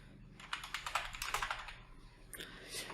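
Someone types into the Windows search box on a computer keyboard. A quick burst of light, clicky keystrokes comes close in a rapid run, then a pause and a few more taps.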